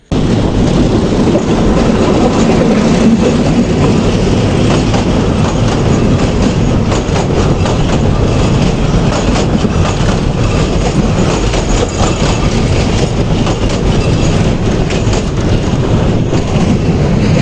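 A train rolls past close by near a long steel arch bridge in Mymensingh, Bangladesh, with steady clickety-clack of wheels and a loud, continuous rumble that holds throughout.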